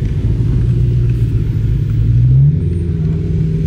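A Corvette C8 rolls in with a deep, steady low engine rumble, loud and close, swelling slightly midway with a rising tone before settling back to a constant drone.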